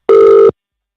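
A single ringback tone of an outgoing phone call to the UK sounds as one short, loud, steady electronic burst lasting under half a second, then stops into silence.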